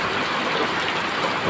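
Heavy rain pours with rushing water, a dense, constant roar filling the air without a break.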